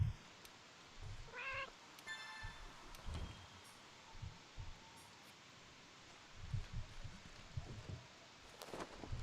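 Palico cat companion in Monster Hunter World: Iceborne meowing in a short wavering call near the start, then quieter mews and rustling game ambience follow, with no talk.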